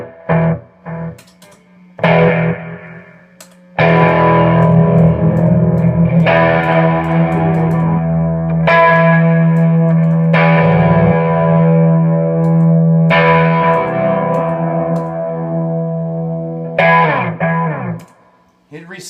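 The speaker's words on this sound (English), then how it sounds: "it just does that bucket brigade thing, and it's resetting on, you know, in real time, and it sounds really cool" Electric guitar played through a bucket brigade delay pedal that resets in real time, sounding loud and heavily effected with distortion, echo and reverb, as a series of struck notes and chords ring out with gaps between phrases.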